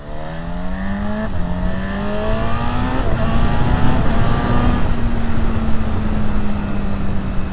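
Honda Hornet SP motorcycle riding by close, its engine droning steadily as it rises through gears, loud and continuous with a rushing road and wind noise underneath.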